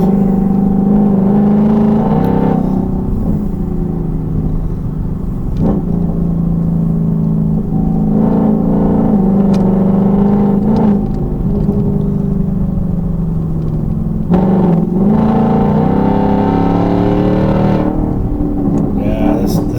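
Ford Mustang GT on a country road, a steady near engine drone and tyre rumble throughout with a few brief rises in revs, loud and continuous with no talk.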